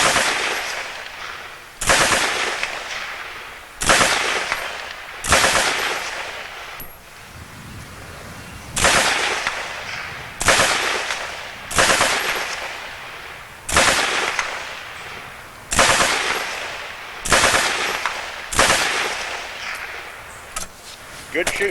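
A JD Jones SSK machine gun fires 1944 British military tracer rounds outdoors, about a dozen loud, sharp single reports spaced a second or two apart, each with a decaying echo tail.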